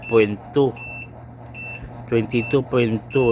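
A solar inverter's low-voltage alarm gives short, bright, high beeps in an uneven series, clear and close, while a person talks over and between them.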